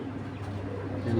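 A silver old-breed pigeon cooing, with soft low repeated coos close by under faint room noise, a steady murmuring hum throughout.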